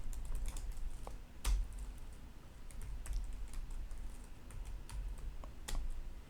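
Someone types a command on a computer keyboard, with a close, irregular run of soft key clicks and a few sharper taps over a quiet background hum.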